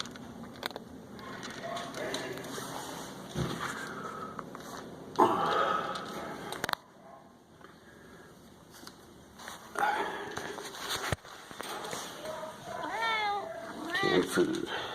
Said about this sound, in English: You're a big puffy cat.